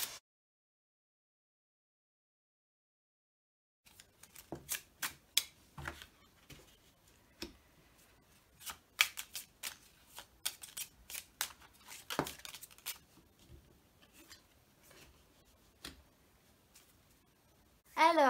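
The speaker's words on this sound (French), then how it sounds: "je bats les cartes et je prends uniquement les cartes qui sautent" Tarot cards shuffled by hand in a series of quick, dry riffles and soft slaps, close and fairly quiet, with a few sharper snaps.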